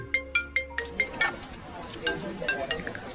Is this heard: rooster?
no